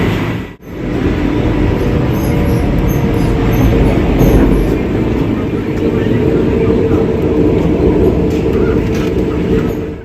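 Vande Bharat express train travelling at high speed, heard from inside as a loud, steady rushing roar and rumble of wheels and air that hardly varies, with a brief dip just after the start.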